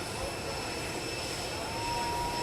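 Air Force One, a jet aircraft, roars steadily at its arrival in Florida, a constant broadband engine wash that stays loud and unbroken throughout, with no clear speech on top.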